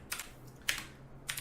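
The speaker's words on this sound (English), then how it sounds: "I'm going to type it" Three separate computer keyboard keystrokes, spaced apart and close by, over a low steady hum with no talking.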